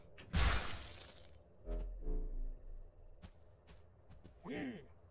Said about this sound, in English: I wonder if I can break the glass.